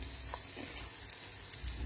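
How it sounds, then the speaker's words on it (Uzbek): Grated pumpkin frying in butter in a pan, a soft continuous sizzle with faint crackles, quiet and close with no voices. "Saryog' bilan birgalikda 1-2 daqiqa qovuriladi."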